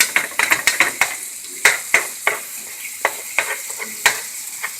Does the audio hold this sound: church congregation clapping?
no